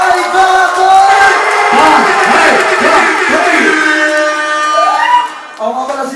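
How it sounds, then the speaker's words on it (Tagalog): Crowd at a Filipino rap battle, Bahay Katay, yells and cheers loudly and continuously for several seconds, dense shouting voices swelling together before thinning near the end. "Aking pong hinihingi ang malakas na palakpakan at sigawan ng bahay kakot!"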